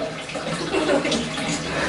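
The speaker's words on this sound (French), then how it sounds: "Il a cassé la chasse d'eau. Il a appuyé trop fort, ça ne cesse de couler." A broken toilet flush leaves water running continuously, a steady close hiss and trickle with no break, and faint talk barely present beneath it.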